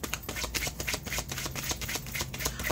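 A deck of tarot cards is shuffled close by, with rapid, repeated riffling flutters and soft slaps in an uneven rhythm, with no talk.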